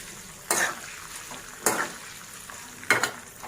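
Dried red chillies fry in a pan for pulihora, giving a low steady sizzle broken by three sharp scraping bursts of stirring at even intervals.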